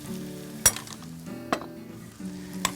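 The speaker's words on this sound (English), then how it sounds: "we just lightly saute that with the shallots and the garlic, just to coat everything" Pre-cooked smoked barley being lightly sautéed with shallots and garlic in a pan, a soft steady sizzle with a few sharp clinks of a utensil against the pan.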